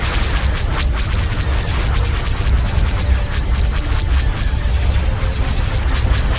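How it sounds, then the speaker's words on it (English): Starship turbolaser batteries fire in a Star Wars: Empire at War space battle, a dense continuous barrage of heavy booms and rumbling blasts with crackling bursts, loud and unbroken throughout. "All batteries fire."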